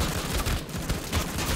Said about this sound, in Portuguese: tomei tanto tiro desses NPC